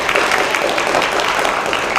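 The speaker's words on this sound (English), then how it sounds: "let's give Kathleen a round of applause" A room full of people at a 2023 candidates forum gives a round of applause, a close, dense and fairly loud patter of clapping that continues evenly for about two seconds.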